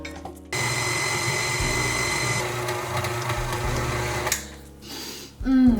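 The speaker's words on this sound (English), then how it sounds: "then I'll mix this all up with my beater blade until it's all combined" A stand mixer's beater blade whirs steadily as it combines cinnamon roll dough after four cups of flour go in, a continuous motor drone that shifts pitch partway through and then cuts off.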